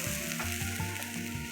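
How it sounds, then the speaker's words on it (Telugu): Cooked khichdi is stirred in a pot, giving a steady close sizzle with a repeated scraping, churning rhythm of the spoon through the thick mix; no one talks. "ఇది ఒకసారి బాగా కలిపేసుకుంటున్నాను."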